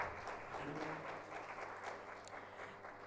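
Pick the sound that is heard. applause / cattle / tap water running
applause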